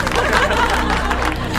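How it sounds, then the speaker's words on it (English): Nobles applauding a tree-singing performance in a fantasy court: a dense, steady wash of clapping with crowd murmur and cheering throughout, swelling slightly louder near the end. "the nobles applaud as if it were a performance"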